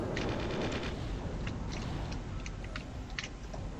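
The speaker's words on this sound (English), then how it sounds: "otherwise the gun is going to continue shooting at us" A computer-controlled gun fires in the strategy game Original War, a faint, quick run of rattling shots over low rumbling background.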